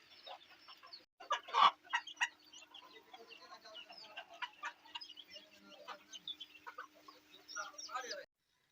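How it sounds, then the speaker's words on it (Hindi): Chickens and roosters clucking while pecking at biryani rice in a village yard, a run of close, busy clucks and squawks that rise and fall, with a louder burst early on and talk mixed in. "और मुर्गे भी यहीं पर चावल खा रहे हैं, बिरयानी खा रहे हैं"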